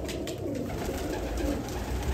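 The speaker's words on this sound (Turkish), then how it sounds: "Çok güzel, lekesiz, tertemiz kuşlar." About 200 pigeons coo steadily in a loft, with soft, layered low calls from several birds running continuously throughout.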